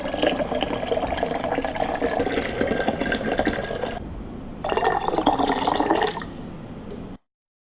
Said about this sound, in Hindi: अब पानी को हम मैक्सिमम लिमिट तक फिलअप कर लेंगे और इसके बाद इसे मैक्सिमम टेम्परेचर तक गर्म करेंगे